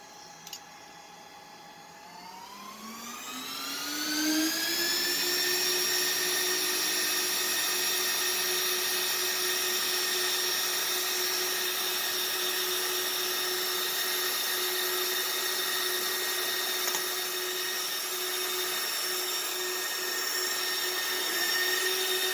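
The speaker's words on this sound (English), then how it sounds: "this is what happens when the fan dies." The dying cooling fan in a Plexxi 10Gb Ethernet switch spins up from a low hum to a loud, steady high-pitched whine with strong tonal overtones, holding at full volume for about twenty seconds with no talking.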